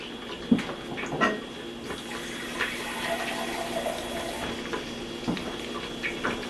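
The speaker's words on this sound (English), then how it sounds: "cover it with some water." Water is poured into a pot holding turkey tails, ham hock and neck bone, a steady splashing rush with a few louder splashes and no talking.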